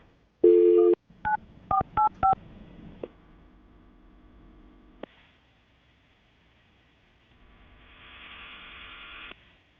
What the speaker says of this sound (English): I'm going to call her right now, get her on the phone.